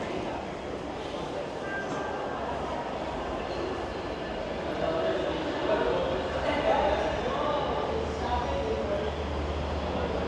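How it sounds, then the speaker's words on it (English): A train pulling into Toronto's Union Station, heard as a steady low rumble and broadband roar that swells slightly midway, with the murmur of a waiting crowd around it. "I can hear a train. Either pulling in or pulling out."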